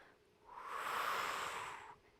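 A long, breathy exhale during a morning Pilates session, swelling over a second and a half and then fading, heard close and alone without talk.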